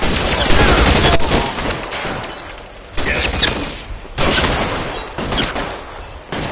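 Rapid gunfire from a shootout in a detective video game, loud close bursts of shots in several volleys separated by brief lulls, with faint voices mixed in.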